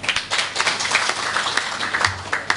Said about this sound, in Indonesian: Dan tepuk tangan buat beliau.